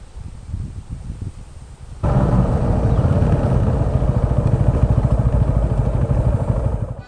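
A motorcycle on a long coastal ride near Devgad is push-started. After about two seconds of low rumble its engine catches and runs loud and steady, close by, until the end.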